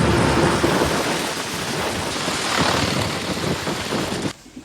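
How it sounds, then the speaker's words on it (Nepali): Heavy rain pours down in a dense, continuous hiss with a deep rumble underneath, then cuts off abruptly near the end. "यस्तो पानी परिरहेको छ यहाँनिर"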